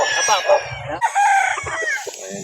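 Several chickens clucking and a rooster crowing loudly up close at a poultry market in Calauan, overlapping in a busy, continuous jumble.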